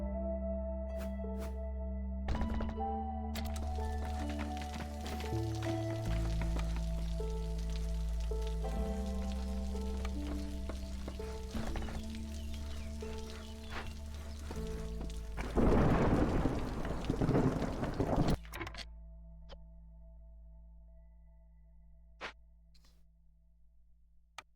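Rainstorm with thunder in the video game Against the Storm: long rolling thunder over steady rain and droplets, swelling to a louder crackling peak before fading to quiet, layered with low droning tones and no voices.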